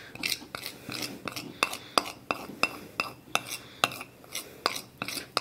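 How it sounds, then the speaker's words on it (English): A utensil scrapes melted chocolate from a bowl in a rhythmic series of short clinking, rasping strokes, close and fairly quiet, with no talk. "Scraping the bowl like"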